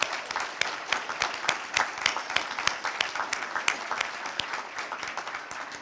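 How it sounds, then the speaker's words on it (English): Audience applause for students at an outdoor Arbor Day ceremony: a crowd of moderate size clapping briskly, with many distinct hand claps standing out over a few seconds. "So let's give them a big round of applause."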